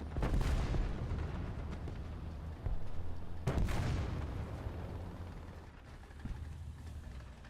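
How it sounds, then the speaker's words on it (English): A Panzer howitzer fires in War Thunder ground battles, delivering two heavy booming artillery shots a few seconds apart, each followed by a long rumbling decay over steady engine drone. "I think the Panzer Howitzer's firing at him"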